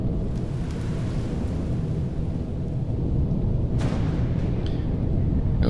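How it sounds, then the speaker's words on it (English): Rain and thunder sound in the survival video game Empyrion. A dense, steady rumbling wash of rain carries on throughout, with a brief sharp crackle near the end. "Out of the rain."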